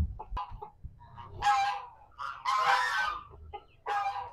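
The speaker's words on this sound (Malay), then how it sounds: "itu adalah bunyi dia panggil betina suruh makan sekali" A farmyard rooster calling hens to come and eat, a close run of soft clucks and louder drawn-out calls in irregular bursts with short pauses between.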